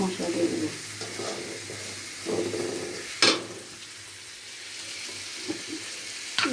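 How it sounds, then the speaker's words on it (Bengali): Garlic fries in a pan of oil for a rui fish curry, giving a soft, steady sizzle with a few sharper crackles and clinks, fairly quiet. "এখন আমার রসুনটা ভাজা ভাজা হচ্ছে।"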